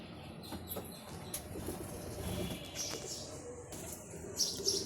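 Racing pigeons in a loft give soft, faint coos and occasional wing flaps over quiet background noise, with a slightly louder flurry near the end.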